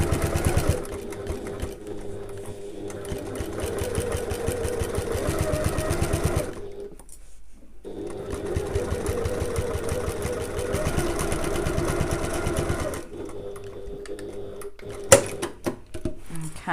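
A sewing machine stitches a tote bag seam with backstitching at the start and end, running in a long steady rattling hum with one short pause midway and a few clicks as it stops.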